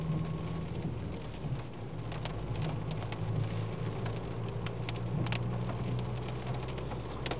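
Steady rain drums on a vehicle during a drive along Scottish roads in rain and mist, a continuous dense patter with scattered sharper drops over a low rumble, with no talk.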